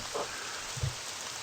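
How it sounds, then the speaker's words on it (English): Steady, soft rain hiss from the video game RPG Maker 2 fills the clip, with a couple of brief low thumps and a faint higher tone early on, no voices. "Ah, it's raining!"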